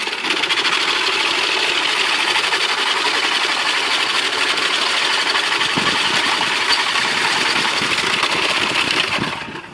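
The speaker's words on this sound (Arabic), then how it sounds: "الصوت ديال المحرك ما غاديش يخليكم تشوفوا مزيان" A motor-driven machine grinding dry bread into crumbs runs loudly and steadily at close range, a constant buzzing whine with no pauses, then cuts off at the very end.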